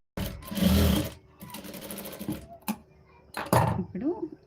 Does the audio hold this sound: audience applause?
no